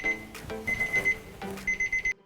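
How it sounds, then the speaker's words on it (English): A kitchen timer alarm goes off while tapioca boba pearls cook, sounding as clipped bursts of rapid beeping in several groups before cutting off. "our alarm for 30 minutes has gone off"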